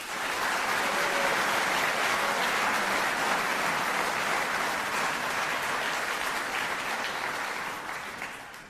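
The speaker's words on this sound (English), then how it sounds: "so please a round of applause for them" Sustained audience applause from a university lecture crowd, dense and steady, fading slightly toward the end with no voices over it.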